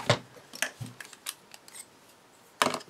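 Paper being cut with scissors in a few short, close snips spaced irregularly, with quiet pauses between them and one sharper final cut.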